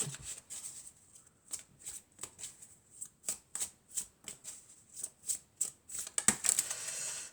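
Oracle cards are shuffled close by in a rapid series of crisp riffling bursts, roughly a dozen quick flutters in an uneven rhythm with short pauses between them.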